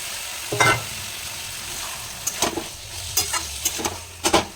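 Prawns sautéed in a pan for a Bengali home-cooked Sunday meal, a steady soft sizzle broken by several sharp spatula scrapes and stirs, close by and with no voices.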